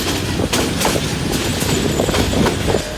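A train rolling along the tracks, with rhythmic clacking of wheels over rail joints under a steady rumble, close and loud.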